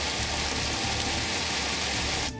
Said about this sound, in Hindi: ब्रिटेन में लंदन सहित कई इलाकों में भारी बारिश हो रही है।